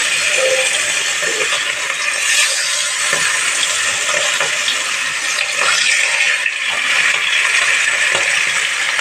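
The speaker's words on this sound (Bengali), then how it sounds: "মাছগুলো ভাজা হতে থাক।" Pieces of rohu fish frying in oil, a dense continuous sizzle and crackle with scattered sharper pops, loud and close, with no voices.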